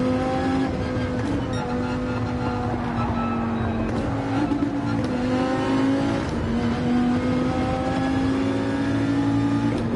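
Race car engine in Gran Turismo 7, a Gr.3 car at speed, holding a loud steady high-pitched drone with small pitch shifts through gear changes and throttle, close and continuous without talk.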